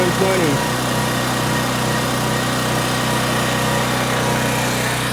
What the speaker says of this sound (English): See what the generator does when I turn it up to 120.